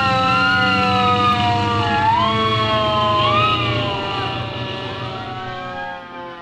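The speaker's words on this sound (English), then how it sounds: "the two firemen jumped on their fire engines and went home" A fire engine's wailing siren rises and falls over a heavy engine rumble, loud and close, gradually fading as the vehicle moves off.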